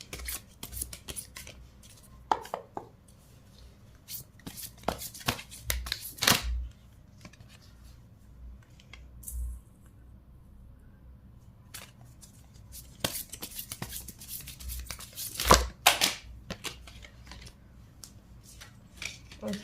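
Tarot cards shuffled in intermittent bursts of papery flicks and riffles, close and fairly quiet, with pauses of near silence between handfuls.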